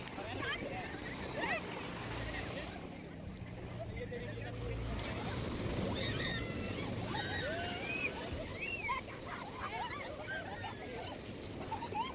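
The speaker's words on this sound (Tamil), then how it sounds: "பாருங்கள் எவ்வளோ அழகாக அலை வருது" Waves wash continuously onto the beach at Nagore Dargah, a steady broad surf heard at moderate distance, with faint chirping birds and some distant voices in the background.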